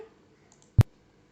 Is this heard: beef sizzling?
no